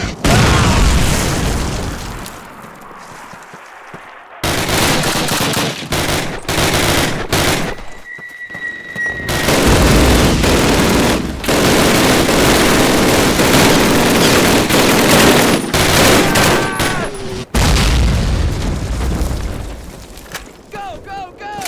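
Call of Duty combat erupts in sustained gunfire, with machine-gun bursts and heavy explosions that come in loud waves, broken by brief pauses, while voices shout over the battle.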